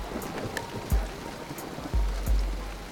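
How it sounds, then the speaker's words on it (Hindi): Steady rain falls in Mumbai as a constant wash of hiss, broken by a few low, heavy thuds, with no voices heard. "मुंबई में आज सुबह से ही लगातार बारिश हो रही है."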